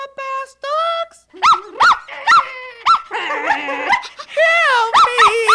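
Cartoon dogs whimper, yip and bark in a rapid, loud series of short calls, with a few pitched vocal cries mixed in between the barks.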